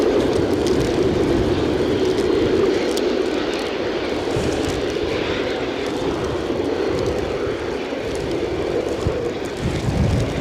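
An aircraft on final approach at Edinburgh Airport in stormy, gusty wind, a continuous loud engine roar with broad wind noise, steady and sustained throughout with no speech.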